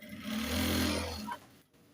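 A sewing machine stitches a shirt collar, one steady close run of rapid mechanical stitching lasting about a second before it stops.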